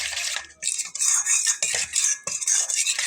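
A spoon beats egg batter in a bowl for egg pitha, making quick rhythmic clinks and swishes against the bowl. The sound is close, steady and continuous, with no talking.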